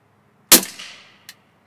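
A Canik TP9 SF pistol with a threaded extended barrel and 20-round magazine fires one sharp, loud shot that rings out briefly, followed by a small metallic click.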